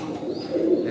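Pigeons coo softly in a loft housing imported bloodline pigeons with their young, a short, close, low cooing phrase with no talk.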